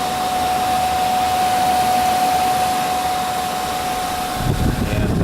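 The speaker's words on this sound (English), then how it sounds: "I only get the about half of the current going into the fans, so that's about half speed, but pretty significant airflow coming through" Electric cooling fans on an electric-converted BMW 320i run at about half speed, a steady broadband whoosh of airflow with a faint constant tone, close and continuous, with a brief bump near the end.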